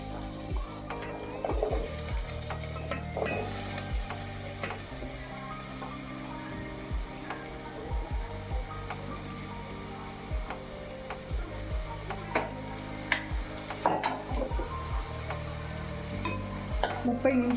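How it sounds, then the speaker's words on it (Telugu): Potatoes and carrots frying in oil in a pan, a steady close sizzle broken by repeated scraping stirs of a utensil, no talking. "1 స్పూన్ ఆయిల్ వేసుకోండి. ఆలు, క్యారెట్ వేసుకోవాలి."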